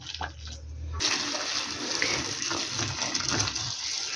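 Boiling water pours in a steady gushing stream over apples and grapes in a container, starting abruptly and continuing loud and close.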